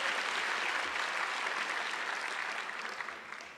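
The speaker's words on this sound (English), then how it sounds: "So I think they deserve a round of applause." An audience at an evening forum applauds in a steady, dense burst of clapping that gradually fades toward the end.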